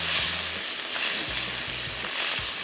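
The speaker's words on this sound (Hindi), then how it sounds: "मशरूम को सिंपल फ्राई किया।" Mushrooms fry in a hot pan with a touch of salt, giving a continuous close sizzle with occasional stirring scrapes and clinks, no voices over it.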